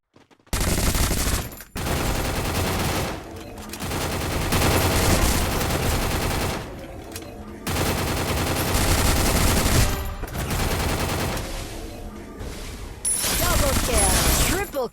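Loud rapid gunfire from the Free Fire video game comes in long sustained bursts broken by brief pauses, with a player's voice shouting over it.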